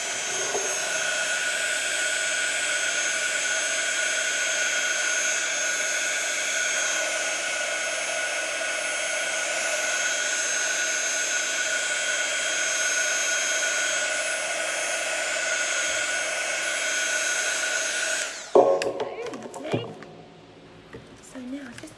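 A heat tool blows a steady, loud whoosh for about eighteen seconds while drying ink on an art journal page, then cuts off abruptly, leaving brief quieter handling noises.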